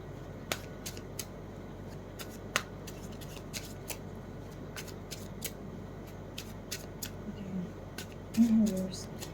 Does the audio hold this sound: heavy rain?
no